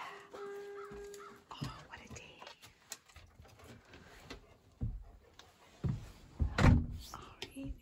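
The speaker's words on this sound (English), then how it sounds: "Crows are out." Crows cawing outdoors on a farm during a morning walk, a scattered series of harsh caws, some distant and others louder and closer, with soft footsteps and movement around them.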